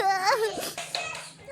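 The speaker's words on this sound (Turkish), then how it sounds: "Evet bir ağlama sesi geliyor." A Baby Alive toy doll cries in a wavering, sobbing wail through the first half second, followed by fainter whimpers and shuffling noises at close range, with no speech over it.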